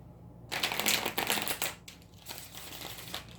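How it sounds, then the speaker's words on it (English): Close, brisk riffling of a deck of tarot cards being shuffled, a flurry of rapid papery flutters that tapers into softer, scattered shuffling. "I gotta shuffle one more time"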